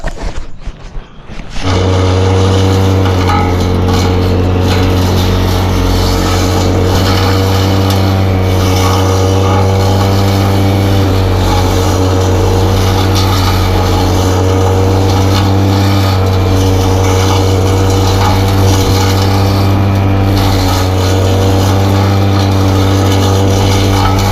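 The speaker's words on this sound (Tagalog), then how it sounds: "grass cutter muna tayo" A steady droning motor runs loud and close for the whole stretch, a continuous engine hum like a grass cutter at work, starting after a brief quiet moment.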